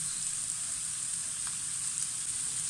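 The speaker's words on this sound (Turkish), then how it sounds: "Şimdi bunlar güzelce kavrulacak." Ingredients with bay leaf, black pepper and salt sauté in a pan, giving a steady, close, even sizzle and frying hiss throughout with no talk.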